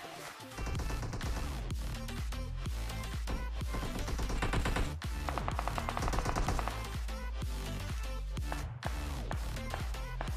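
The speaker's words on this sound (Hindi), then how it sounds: "पहले से वो गोली चला रहा है" Automatic weapons fire in the PUBG Mobile battle-royale game: dense, rapid bursts of gunshots rattling almost continuously, with only a brief gap near the end.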